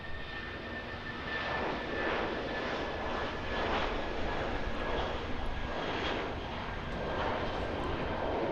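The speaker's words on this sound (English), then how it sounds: "Airbus A320-200." An Airbus A320-200 airliner arriving at Auckland Airport after a flight from Brisbane, its broad, steady jet roar holding loud and continuous from start to finish with no talk over it.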